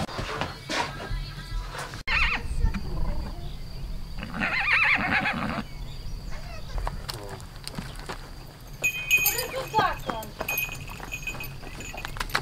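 A horse whinnies on a mountain pasture among shepherds, joined by hoof clops, footsteps and people talking nearby.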